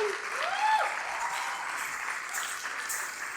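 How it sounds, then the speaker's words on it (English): Audience applause fills the room, a continuous, moderately loud patter of many hands with a faint whistle-like tone near the start, staying steady for a few seconds. "she deserves a round of applause"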